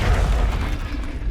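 A Confringo spell blast in Hogwarts Legacy, a short, heavy boom with a deep rumbling tail that fades over about a second of combat.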